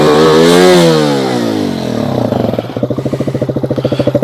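A Skybike Liger 2 motorcycle engine revs up loud and close, its pitch climbing then falling back, then settling into a rapid, pulsing putter as it slows.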